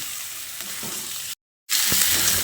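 Chicken pieces coated in ground spices sizzle and fry in a pan for a chicken dish served with pulao, with steady stirring scrapes; the frying briefly cuts out, then returns louder and brighter.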